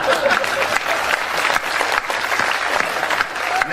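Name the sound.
audience applause at a Hindi comedy poetry event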